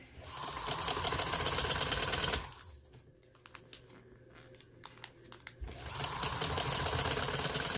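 Domestic sewing machine running in two steady bursts as it stitches the border strip onto a trouser hem, a fast rattling whir that stops for a quiet pause with fabric handling before starting again, close and alone.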